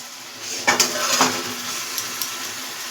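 Mutton stirred in a pan with sour yogurt and spices for mutton kosha, with a few soft spoon scrapes and clinks over a low, steady sizzle.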